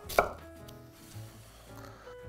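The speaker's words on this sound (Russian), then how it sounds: "по-мужски, произвольно капусту" A single sharp knife chop through cabbage on a board, close and crisp, followed by quiet faint rustling.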